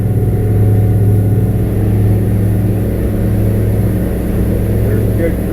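A Pro Duckworth 22-foot boat's engine runs loud and steady as it speeds up toward cruising speed, a continuous close low roar with a voice talking over it.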